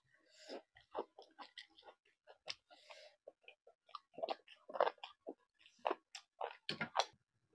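Close chewing and crunching of chicken bones from a spicy chicken curry, as irregular wet bites and crunches with faint breathing between them and no talk.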